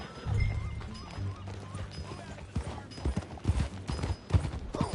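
Horse hooves gallop in Red Dead Redemption 2, clip-clopping in an irregular rapid rhythm over a low rumbling background, with faint voices mixed in.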